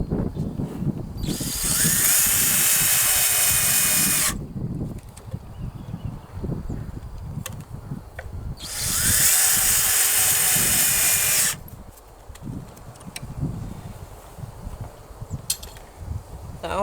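Power drill driving screws into a wooden toybox frame, two loud sustained whirring bursts of a few seconds each separated by quieter handling noise.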